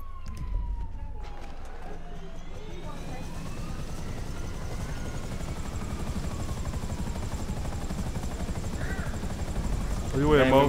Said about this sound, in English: We can get in the helicopter.